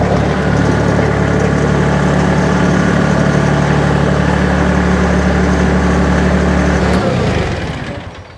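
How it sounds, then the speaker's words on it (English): A bigger mini skid steer's engine runs loud and steady at a close idle for about seven seconds, then shuts off and the drone fades away. "We picked up a bigger mini skid steer"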